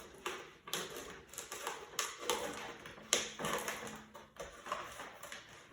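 A razor blade cuts around a plastic face shield in a series of close, scratchy scraping strokes with irregular rhythm, with no talk.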